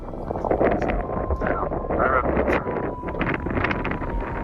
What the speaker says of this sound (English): the wind from Round Mountain has followed me